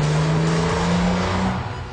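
A BMW Z4 M revs hard on a test drive, its engine note loud and close, holding a steady droning tone that climbs and falls with the throttle over two seconds, with no voices.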